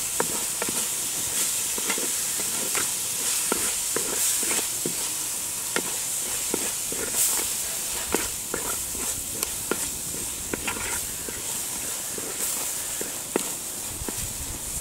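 Masala sautéing in oil in a pan for quail gravy, a steady close sizzle with repeated scraping and stirring clicks throughout, no talking.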